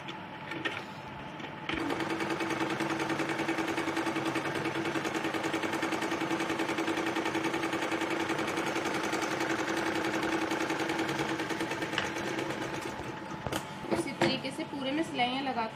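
A sewing machine runs steadily while stitching the hem of a full-flared Patiala salwar, a continuous buzzing whir from about two seconds on, briefly stopping and restarting near the end, close and fairly loud.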